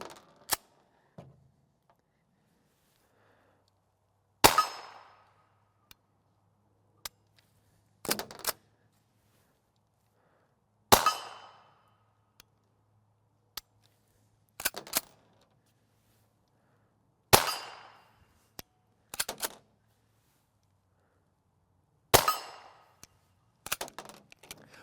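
Suppressed 5.7x28mm Fiocchi 62-grain FMJ rounds fired at a range: several sharp, clipped reports spaced a few seconds apart, each trailing off quickly, with small metallic clicks and handling noises in the quiet between shots.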